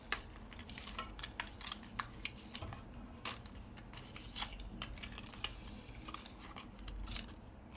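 A pen knife slices through a paper label with quick, crisp snipping and scratching strokes, repeated steadily at close range and fairly quiet.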